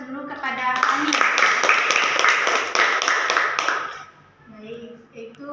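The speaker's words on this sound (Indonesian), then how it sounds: "Kita berikan aplaus dulu kepada kami" A small classroom group applauds during a group counseling practice session, a dense run of hand claps lasting several seconds before fading, with voices talking briefly before and after.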